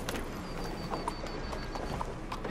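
Horse hooves clip-clopping in the video game Red Dead Redemption 2, a steady sequence of light knocks over a constant ambient background, no talk.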